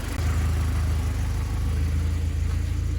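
A Honda Accord CB7 with a G23 VTEC engine idling, a steady low mechanical rumble with an even pulsing throb, close and continuous throughout with no talk.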